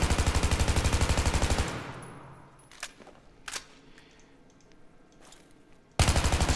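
Automatic rifle fire in Battlefield 3 comes as a loud, rapid burst at the start, then a few sharp distant shots echo over a quiet pause before another dense burst resumes at the end.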